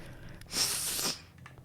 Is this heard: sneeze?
yes